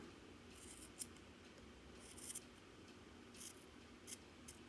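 Scissors snip through crochet yarn in a few quick, faint cuts spread over a quiet background, with light rustling between them.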